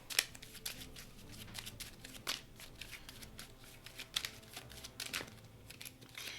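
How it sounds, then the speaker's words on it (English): A deck of hit location cards from the Kingdom Death: Monster board game gets shuffled by hand, with crisp riffling bursts and soft slaps of card edges in an irregular rhythm, close and fairly quiet. "So let's shuffle the hit location deck."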